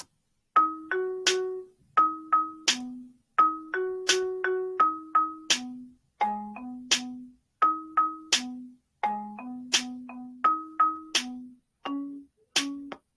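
A finished melody composed in Music Lab's CycleWise tool plays back as a clean, bright synthetic tune of short plucked notes in repeating phrases with steady rhythm and brief gaps, with no voices.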